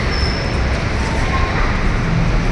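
A steady, loud rumble of a metro train running, with constant rolling noise and no distinct breaks.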